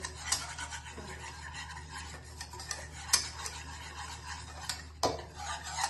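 A spoon stirs and mashes a besan gram flour batter in a bowl, with soft continuous rubbing and scraping and a few sharper knocks against the sides, quiet and close.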